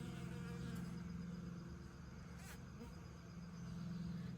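Bees buzz around honey they have found, a continuous low droning hum from many insects nearby, steady and fairly faint throughout.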